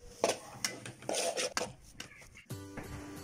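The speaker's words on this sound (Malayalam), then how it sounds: "മസാലക്കൂട്ട് വഴറ്റി വെച്ച സവാളയിലേക്കിട്ട് നല്ലതുപോലെ ഇളക്കിയെടുക്കണം" Masala mixture being stirred into sautéed onions in a pan for a Kerala beef curry, with close scraping and clinking of a spoon against the pan in uneven bursts, followed by a steady sizzle.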